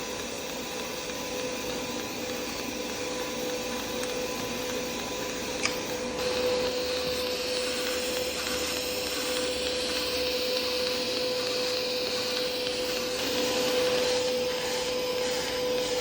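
An AMI 227 power supply driving an M79-2375 orbital weld head as it travels around the joint mid-weld gives a steady, close electrical hum with a constant high-pitched whine and a faint hiss throughout, without pauses.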